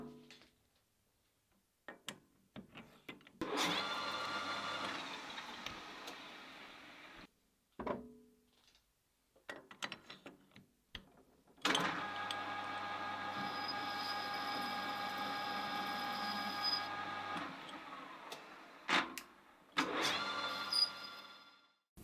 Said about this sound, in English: I'll give the new holders a go, cutting the taper in this tombstone blank for the finished 4th axis.